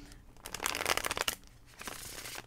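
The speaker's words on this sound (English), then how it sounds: "All right, one more shuffle." A tarot deck riffles in one quick shuffle, a dense burst of card flutter lasting under a second, followed by softer card handling, close and alone.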